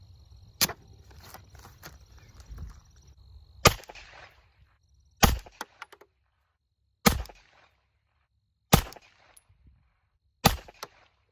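Six 9mm pistol shots with Accura bullets, HP38 powder loads and Starline brass, sharp loud cracks spaced one to two seconds apart at an outdoor range, with faint handling noise between.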